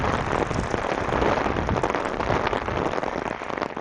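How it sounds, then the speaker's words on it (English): Steady rain falling and dripping heavily off trees during a walk in Regina, a dense, loud, continuous patter with no talk. "Sometimes it rains harder under the trees because they've got so much rain."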